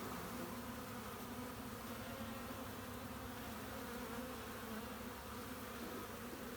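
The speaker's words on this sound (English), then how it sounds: "Now we did find this swarm right on the ground, right at the bottom of a fence." Honeybee swarm clustered on the ground at the base of a fence, a steady, dense, low buzzing that holds constant and fairly faint throughout with no talk.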